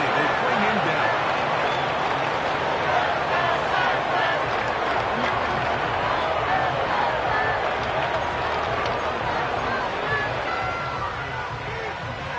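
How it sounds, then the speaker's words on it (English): A football stadium crowd roars through a third-down play in a college football game, a continuous loud wash of cheering and clapping that swells and holds, with a commentator's voice talking over it. "This crowd into it now as we get to third down."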